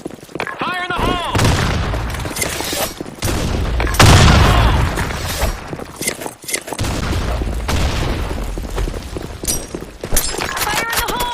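Grenade explosions and gunfire in the video game Sand Storm II, with heavy booms and scattered shots over a continuous battle din while voices shout throughout.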